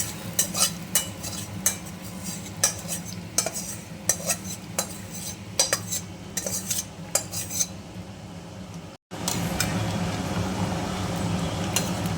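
Potatoes for niramish aloor dum fry in a pan while a utensil scrapes and stirs in a quick irregular rhythm over a steady sizzle, briefly cutting out before the sizzle resumes alone.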